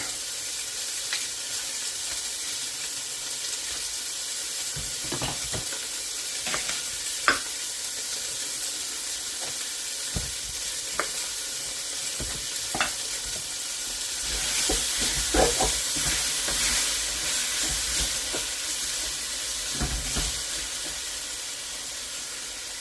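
Chunks of meat for a beef stew browning in a hot pan, a steady close sizzle with occasional stirring clatters and scrapes throughout.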